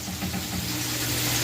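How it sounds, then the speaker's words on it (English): Okra coated in egg and seasoning frying in a pan, giving a steady, close, moderately quiet sizzle with a constant crackling hiss throughout and no talking. "So this is frying up good. I'm going to go ahead and just let this fry real quick."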